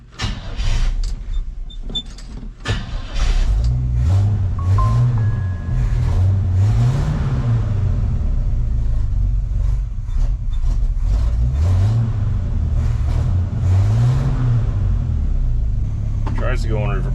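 A vintage Chevy C10 truck, long left sitting, idles with a low, steady engine rumble that rises and falls in slow cycles as the driver tries to move it, with a person talking over it near the start.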